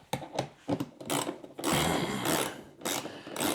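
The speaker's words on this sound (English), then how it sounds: "I'm just tightening down the bolts in it." Bolts are tightened with a ratcheting tool during assembly of a Gorilla 7 cu. ft. heavy duty poly yard dump cart with angle iron frame, quick close clicking bursts and metallic mechanical rattles, no talk.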